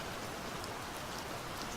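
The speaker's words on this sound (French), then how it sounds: "le sol est boueux, la pluie ruisselle et c'est loin d'être agréable" Steady rain ambience backs a tabletop role-playing session set in muddy woods during the Second World War, a constant soft hiss of falling rain with no voices and no breaks.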